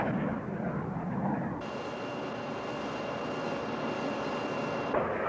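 A carrier jet aircraft pulls up into a steep climb, its loud, steady engine roar swelling at about a second and a half and holding as a broad, sustained whoosh with a thin high whine, with no voices.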